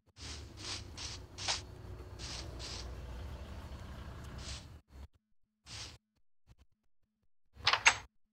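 A door opens in a zombie video game with a run of rattling, scraping bursts, then quieter gaps broken by short clunks and a final sharp double knock.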